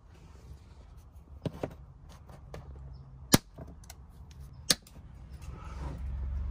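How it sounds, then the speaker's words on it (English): Plastic clip retainer tabs being cut during a MOLLE panel installation: a few sharp snapping clicks spaced irregularly, two loudest near the middle, close up against quiet background. "Next, we're gonna cut these little tabs off the clip retainers."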